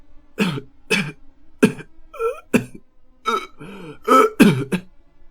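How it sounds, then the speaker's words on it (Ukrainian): A string of harsh, hoarse coughs in short bursts, with a throaty wheeze between them, close and fairly loud. "Хрипкий кашель почав вириватися з горла хлопця."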